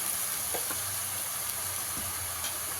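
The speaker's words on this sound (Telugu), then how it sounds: "ఇది స్టవ్ హై కాకుండా సిమ్ కాకుండా మీడియంలో పెట్టుకొని ఫ్రై చేసుకోవాలన్నమాట." Mint leaves frying in oil in a pan over medium heat make a soft, steady sizzle and hiss with a few faint stirring taps, fairly quiet and even.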